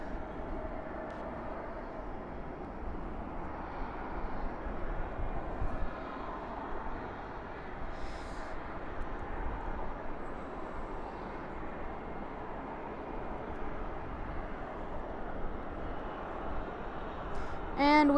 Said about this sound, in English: It is a Airbus A300 right now getting pushed back.